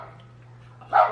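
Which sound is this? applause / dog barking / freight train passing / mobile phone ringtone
dog barking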